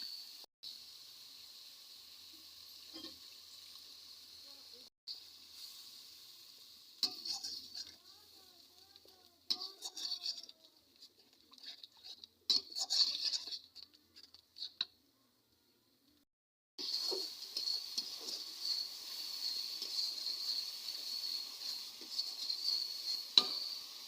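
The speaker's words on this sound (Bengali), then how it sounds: "এখন এটা আমি পানি দিয়ে ভালো করে কষিয়ে নেবো" Spices for fish curry are cooked down with a splash of water in a pan. A quiet hiss of sizzling is broken by scattered clicks and stirring scrapes, and it swells louder near the end.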